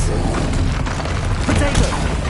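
Booming blast from the Confringo explosion spell in the video game Hogwarts Legacy, loud low rumbling bursts under busy game noise with voices around.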